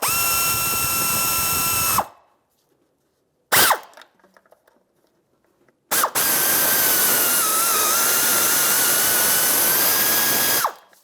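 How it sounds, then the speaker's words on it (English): A 1/4-inch swivel socket on a power driver tightens the transmission oil pan bolts of a 2011-2016 Hyundai Elantra, making two loud sustained whirring bursts with a steady pitch, separated by a short blip and a pause. "I decided a 1/4-inch swivel socket works pretty good on the side here to snug it up."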